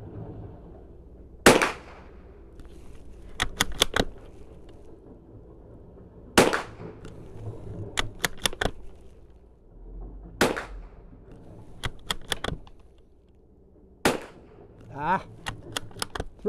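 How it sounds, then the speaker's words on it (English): Five sharp cracks from a Savage Mark II .22LR bolt-action rifle fired at a range, spaced several seconds apart, with clicks of the bolt being cycled between shots. "We're going to just fire 5 shots with our 10-round magazine."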